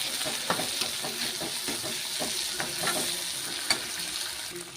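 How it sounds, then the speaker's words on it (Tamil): Brinjal and tomatoes sauté in a hot pan for an Indian brinjal thokku, a steady close crackling sizzle with soft scattered stirring clicks throughout. "அதை போட்டு நல்லா வதக்கணும்"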